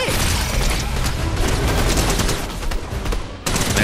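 Loud, dense gunfire from a Fortnite Chapter 5 Zero Build ranked solo match rattles almost nonstop, with rapid overlapping shots and a brief break near the end before firing resumes.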